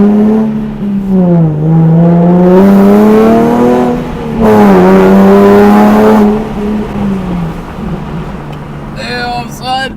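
A Nissan 370Z accelerates hard at three-quarter throttle, its raspy exhaust note climbing through the gears in rising harmonic sweeps, loud and close. A brief shift dip breaks the pull before a second surge, then the car eases off.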